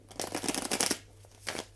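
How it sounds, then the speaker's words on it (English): Tarot cards being shuffled by hand in a quiet room, a run of soft, dense riffling bursts followed by a short pause and one more brief flutter of cards. "I can't seem to hold these cards to shuffle them for you"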